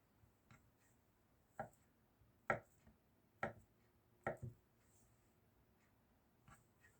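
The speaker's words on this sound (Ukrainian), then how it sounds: "Так як сир дуже м'який, ми зразу його нарізаємо і викладаємо в тарілку" A knife taps sharply against a cutting board several times while slicing soft feta cheese, in an uneven rhythm, quiet and close, with soft pauses between cuts.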